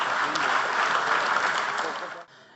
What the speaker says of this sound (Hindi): And the birthday boy Ashwin भाई शाह के लिए भी जोरदार तालियां।